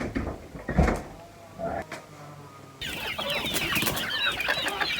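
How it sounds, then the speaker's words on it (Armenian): Several hens let out of their coop at a rural home keep up a busy stream of clucks and squawks nearby. Earlier there are a few thumps and door-like knocks, and a voice is faintly present. "Մի քանի հավ դուրս են եկել"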